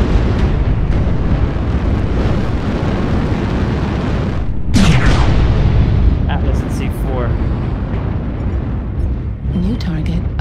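Missiles exploding in the mech combat game MechWarrior Online, a dense continuous roar of blasts and booms with a sharp burst midway, under someone talking.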